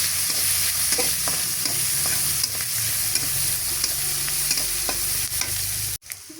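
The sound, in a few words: chopped onions frying in a pan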